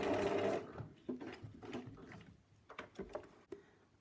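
A sewing machine stitches a boning casing on a corset, a loud continuous run at the start followed by a series of short, irregular bursts of stitching, close by with no talk.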